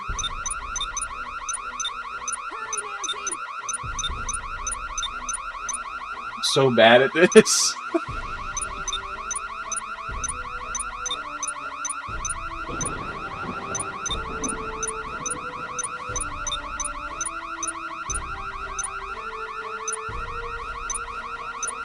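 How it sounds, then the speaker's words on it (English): Car alarm in the Nancy Drew: Stay Tuned for Danger video game, a continuous cycling electronic siren with rapid repeating tones, steady throughout, with a brief louder burst early on and a voice speaking over it. "And the worst part is I have to hear this alarm every time."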